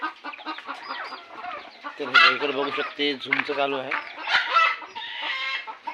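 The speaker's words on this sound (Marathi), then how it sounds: "ह्या नवीन कोंबड्या काल आपण घेऊन आलेलो आहोत" Newly bought hens on a farm clucking and squawking close by in a busy, overlapping flurry, with a person speaking over the birds.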